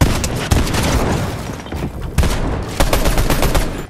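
Gunfire in a shooting video game, rapid loud bursts of shots and booming impacts packed closely together, with sharp peaks standing out from a dense, noisy barrage.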